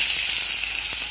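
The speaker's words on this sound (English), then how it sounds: "Now in goes the pineapple" Pineapple drops into a hot pan already sizzling with chili and raw peanuts, giving a loud, dense hiss that fills the short moment without any talk.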